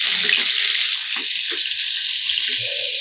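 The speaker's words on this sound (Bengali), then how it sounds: "আমি আমার এই চিকেনগুলো দীর্ঘ সময় পর্যন্ত ভেজে নিচ্ছি" Coated chicken pieces frying in a pan over moderate heat, a loud, steady, close sizzle running throughout with no talking.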